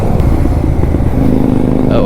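A pack of Royal Enfield motorcycles thunders past on a Delhi-NCR Sunday group ride, a steady loud engine roar that keeps going from start to end, with someone talking over it.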